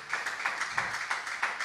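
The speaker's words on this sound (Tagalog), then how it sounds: "Pwede ba nating palakpakan nating dakilang Diyos" Church congregation clapping in praise of God at a JMCIM service, a steady rhythmic beat of claps, about two per half second, fairly close and without talk.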